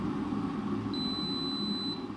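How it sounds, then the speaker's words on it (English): A Silvercrest SWKD 2400 B2 digital water kettle gives one long steady electronic beep after switching off at 80 degrees, clear and close over a low background hum. "And we are hearing the beep."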